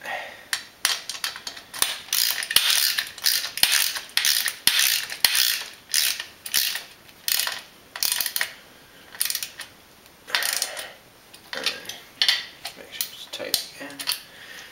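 Motorcycle stand being tightened by hand, a rapid series of sharp metallic ratcheting clicks in repeated bursts, close and fairly loud, with brief pauses between runs.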